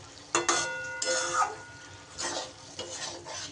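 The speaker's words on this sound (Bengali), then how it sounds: "বেগুনগুলো দিয়ে হালকা হাতে একটু মিশিয়ে দিতে হবে মশলার সাথে" A spoon gently folding soft fried brinjals into spice masala in a pan, giving a few light scrapes and clinks against the metal at uneven intervals, close and fairly quiet, with no speech.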